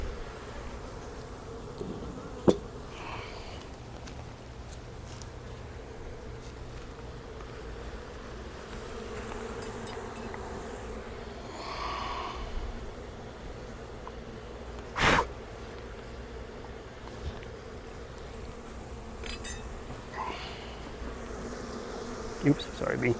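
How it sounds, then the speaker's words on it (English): Bees buzz around a honeycomb hive, a dense, continuous droning hum close by with individual bees passing near, plus occasional faint snorts and breaths from a person nearby. "Oops, sorry, bee."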